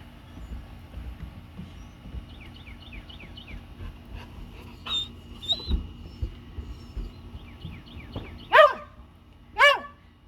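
A puppy gives a few scattered high-pitched yips and barks, the last two loud and close, with soft chirpy squeaks earlier amid quiet rustling.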